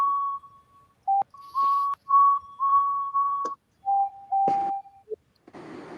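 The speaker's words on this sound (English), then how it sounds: "This version of Edward's whistle is used on James for Magical Adventure." Edward's train whistle from Thomas & Friends, the version also used on James in Magical Adventure, sounds in a string of clear, steady tooting blasts of varied length, some slightly lower in pitch, with clicks between and a short hiss of steam at the end.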